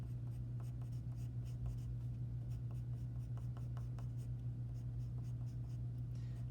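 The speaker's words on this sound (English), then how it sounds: "the more pressure I apply with my pencil, with my hand, the more the pencil is going to show darker lines" Pencil strokes scratching across paper to build fur texture, a steady stream of quick rhythmic lines over a constant low hum.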